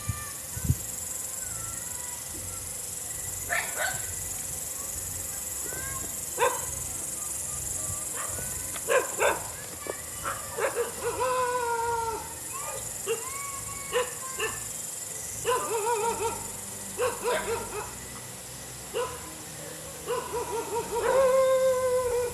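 Several dogs bark from middle distance in a rural area at night, scattered single barks and short bursts across the stretch over a steady chorus of insects and crickets.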